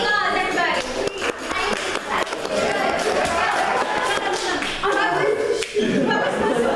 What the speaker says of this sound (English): Beautiful round of applause, everybody.